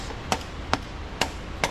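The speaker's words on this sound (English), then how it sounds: "And it's going to be hammer time. Hammer taps." Four sharp metallic hammer taps on a Cadillac's bent suspension strut, evenly spaced and fairly close, over a steady workshop hum.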